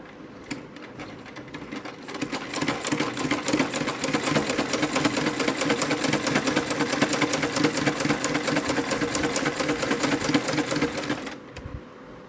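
A sewing machine runs steadily, stitching fabric in a fast, even mechanical rattle that starts up after a brief pause and continues close and loud for about nine seconds before stopping.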